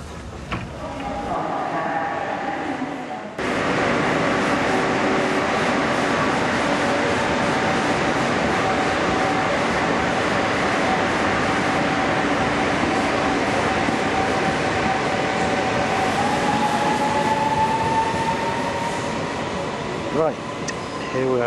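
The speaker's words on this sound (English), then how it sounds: "this morning we've caught the 7:45 train to Niort" A morning passenger train runs from La Rochelle to Niort, heard from inside the carriage. A quieter opening gives way to a loud, steady rumble and rattle of the wheels, and a faint tone rises late in the ride.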